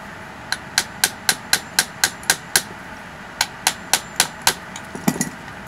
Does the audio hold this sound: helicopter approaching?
no